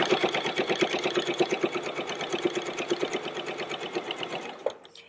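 Smocking stitches come from a sewing machine in a fast, even run of rhythmic needle pulses, close and clear for about four and a half seconds, and then it stops.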